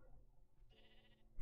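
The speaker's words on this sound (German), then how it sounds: "Auch zwei Schafe." Minecraft sheep bleating: a single short, faint bleat heard quietly through low game background noise, with no talk.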